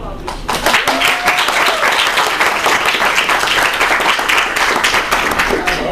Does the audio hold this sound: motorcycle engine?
no